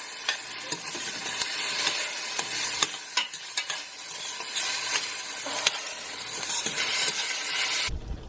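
Chopped garlic cloves and ginger sautéing with onions in a pan, a steady sizzle broken by frequent sharp stirring scrapes and clicks, close and without speech.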